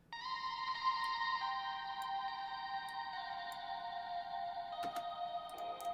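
Guitar part soaked in Valhalla Shimmer reverb at a fully wet 100% mix, heard alone as sustained, shimmering tonal washes that shift pitch gradually, with a few faint ticks near the end.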